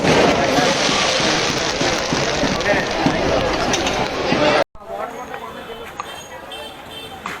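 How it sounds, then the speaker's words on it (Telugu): Fireworks crackle and pop densely at the Nookalamma fair in Bheemili amid a chattering crowd with voices, then cut to a quieter stretch of sparser crackles. "బాణసంచా కార్యక్రమం చూసిన తర్వాత"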